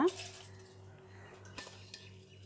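A metal ladle scoops bottle gourd dosa batter in a home kitchen, with a few light clinks of utensils, one near the start and a couple later, over a soft steady background hum.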